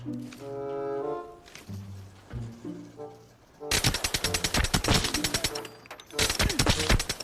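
Rapid bursts of automatic gunfire crackle in the Arena Breakout video game, following a stretch of low tonal in-game sound and clanks, with the shots coming in dense clusters that pause briefly and resume.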